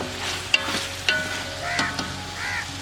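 Chicken meat fries in a pot for Kabuli pulao, giving a steady close sizzle with occasional sharp clicks and scrapes of stirring against the metal.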